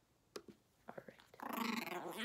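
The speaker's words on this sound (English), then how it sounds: "Sorry if my dog makes that noise." A dog gives a few short low grunts, then breaks into a sustained, rising growl that rumbles on continuously close by.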